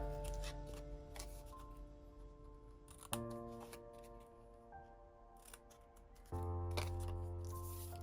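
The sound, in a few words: cutting paper corners for Halloween mini album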